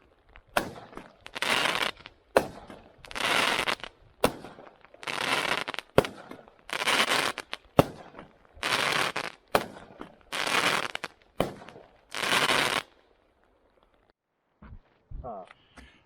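An Argento Trygonus fireworks cake fires about nine loud crackling volleys in a steady rhythm, each bursting roughly every second and a half, then falls silent with brief voices at the end.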